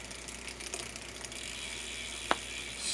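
Bicycle crank turned by hand with a ratcheting freewheel, fitted with an Alienation Starship sprocket, producing a quiet run of fast clicking ticks close by, with one sharper click near the end.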